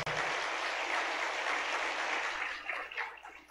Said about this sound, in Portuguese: Por favor, batam mais palmas.